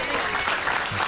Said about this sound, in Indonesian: kenapa di sini selalu tepuk tangan?